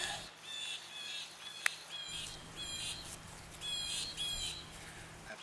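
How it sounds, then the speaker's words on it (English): A bird squawks and calls repeatedly outdoors in short, bright bursts over a quiet background, fairly near, with no voices. "That bird makes me want to go sit in the tree."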